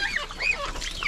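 Goose goslings give high, thin peeping calls in quick overlapping bursts, close by and fairly clear against light rural background noise.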